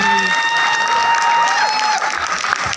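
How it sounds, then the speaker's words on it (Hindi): Clapping and some cheering from the crowd at an award ceremony for a second-place play from Himachal Pradesh, a continuous wash of applause under a held tone, fading slightly near the end. "एक बार तालियां हो जाए भाई"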